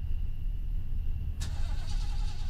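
Car engine in a Grand Theft Auto video game, a low continuous rumble with a sharp mechanical click or door-like transient midway followed by the engine running on steadily, no talk.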